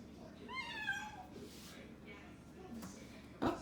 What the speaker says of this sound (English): Kitten having a total fit because she can't get the bird.